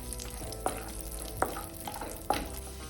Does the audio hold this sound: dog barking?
no